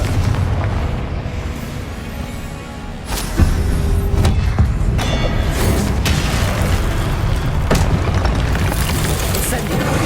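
Loud, booming blasts from the Confringo blasting curse in the video game Hogwarts Legacy, layered with dense combat noise and a sharp burst near the three-second mark, with spell voice lines under the action.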